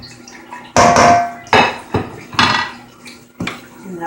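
Broccoli salad being tossed in a bowl, with several clattering bursts of a utensil scraping and knocking against the dish in an uneven rhythm, close and fairly loud.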